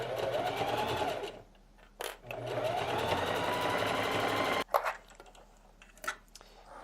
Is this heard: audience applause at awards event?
no